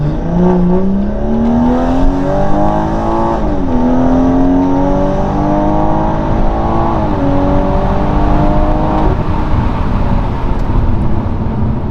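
Tuned BMW car carrying four people accelerating hard, its engine note climbing loud and steady through several gear shifts with brief dips between pulls, heard from inside the cabin.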